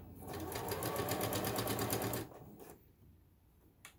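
A Kenmore 385.19001 sewing machine runs a straight stitch on a small piece of fabric, a fast, even mechanical chatter for about two seconds that stops abruptly, followed by quiet handling sounds.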